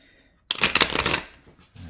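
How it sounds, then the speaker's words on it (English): A deck of tarot cards gets a quick, close riffle shuffle, a crisp burst of fluttering card edges lasting under a second, followed by a soft tap. "Extra shuffles."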